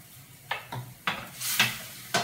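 Vegetarian sausage and peppers cooking in a pan with garlic powder, a steady close sizzle broken by several sharp stirring scrapes and clacks spaced about half a second apart.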